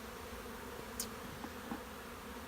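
Honey bees buzz at an open hive during a spring colony cleanup, a faint, steady drone in the background with a few soft clicks and taps.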